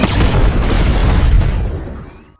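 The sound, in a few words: grenade explosion in the film The Continental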